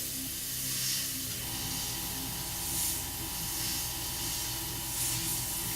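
An airbrush sprays paint onto hobby lava bases, mostly a steady, soft hiss of air that runs continuously with slight swells in strength, no voices over it.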